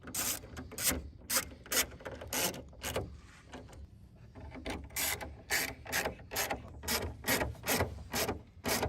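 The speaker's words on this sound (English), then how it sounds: "now we're going to go at the bottom and we're going to put the screws in" A power driver runs screws through plastic tabs into the hood vent grille on a Mercedes, giving repeated bursts of loud, close ratcheting whirs with short pauses between them and no talk.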